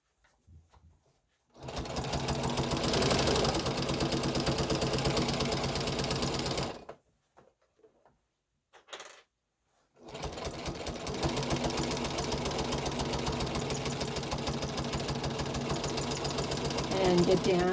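Sewing machine stitching down quilt binding, a long close steady run of rapid needle clatter, then a pause with a brief blip, then another long continuous run.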